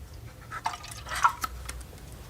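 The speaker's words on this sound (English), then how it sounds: "Then you take a little bit of water, not a lot, and you pour it in just about to there." Water poured in small amounts into a container during a gift unboxing: a few soft drips and trickling splashes, close and quiet, scattered over a low background murmur with no voices.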